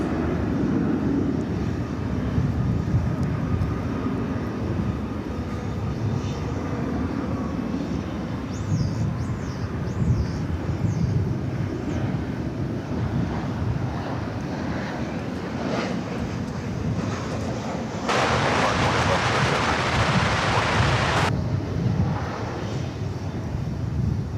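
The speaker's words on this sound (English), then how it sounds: "American Airlines flight touching down from Oklahoma City, flight 1905" Airliners at DFW Airport, including an American Airlines 737-800 touching down from Oklahoma City, produce a steady distant jet rumble with wind, and a louder hissing roar swells briefly near the end.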